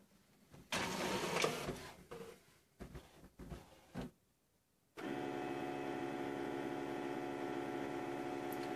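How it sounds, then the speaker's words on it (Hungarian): An HP OfficeJet Pro 8600 printer makes a copy: irregular mechanical whirs and clicks of paper feeding come first, then a steady, loud droning hum of printing runs to the end. "rögtön jelez is a nyomtató, hogy érzékelt egy lapot a tálcán, és el is indítjuk a fénymásolást."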